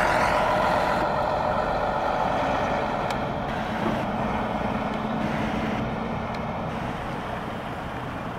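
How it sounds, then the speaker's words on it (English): A deep, rumbling vintage diesel engine of an AEC Routemaster bus in Montreal drones steadily and loudly throughout, with a faint hiss and rattle riding on top. "Listen to that vintage diesel."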